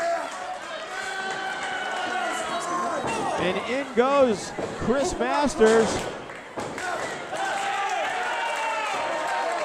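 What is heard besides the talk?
wrestling crowd cheering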